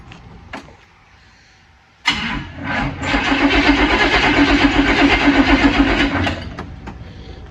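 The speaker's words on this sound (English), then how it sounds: "see if I can crank it up for you guys." A 1978 Chevrolet Malibu engine being cranked, with a sharp click and then a loud, steady whirring of the starter that runs for about four seconds without the engine catching, then stops.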